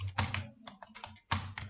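Rapid bursts of keystrokes on a computer keyboard while C++ switch-case code is typed, close and clicky in quick clusters with a short pause between.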